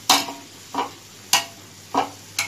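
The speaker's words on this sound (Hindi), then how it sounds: "इस तरह हमें आहिस्ता आहिस्ता भूनना चाहिए" Grated carrot and beetroot are slowly stirred in ghee for halwa, with five distinct, evenly spaced scraping strokes of a spoon against the pan and a faint low sizzle between them.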